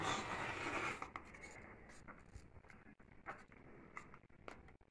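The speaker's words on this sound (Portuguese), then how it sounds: "E vou agora cortar com 7 centímetros." A rotary cutter slices along fabric lined up on a gridded cutting mat, giving a broad scraping hiss at first, then a few sharp taps and light rustles as the ruler and cloth shift.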